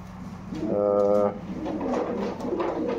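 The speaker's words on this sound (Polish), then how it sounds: "tych rozpłodowych gołębi lotników" Breeding racing pigeons coo close by, one clear, sustained rolling coo standing out over a low background of birds and shuffling sounds.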